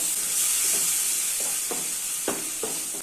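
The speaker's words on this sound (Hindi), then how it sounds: "अभी इसमें टमाटो की प्यूरी ऐड कर देते हैं और बचा हुआ हाफ चम्मच जिंजर गार्लिक पेस्ट ऐड कर देते हैं" Tomato puree and ginger garlic paste stirred into frying spices for mutton keema, a steady close sizzle and hiss with several soft scraping strokes of the spoon toward the end.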